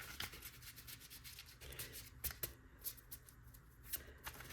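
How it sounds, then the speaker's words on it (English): A tarot card deck being shuffled by hand: soft, close riffling and rubbing of cards in repeated bursts, quiet and with no talking. "I do find when shuffling the deck, though, I don't get my jumpers like I like."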